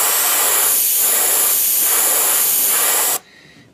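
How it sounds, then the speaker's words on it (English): An airbrush sprays moss green paint down the back of a fishing lure, a loud, steady close hiss with slight pulsing that cuts off abruptly near the end. "we're going to spray right down the back side of this bait"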